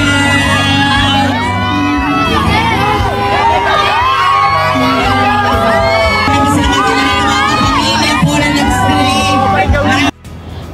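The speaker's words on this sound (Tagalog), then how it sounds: "Habang hindi pa rin matigil ang hiyawan ng mga tao." A large crowd screams and cheers continuously at high volume at a festival concert in Bacolod City, a dense roar of shrill voices that cuts off abruptly near the end.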